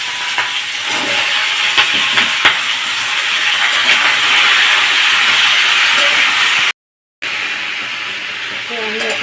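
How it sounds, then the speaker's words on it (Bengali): Potatoes and onions being fried and stirred in a pan, a broad steady hiss and sizzle close up with occasional scraping, briefly cut out near the end. "আমি এখন আলু পেঁয়াজ থেকে ভালো করে কষে নিচ্ছি।"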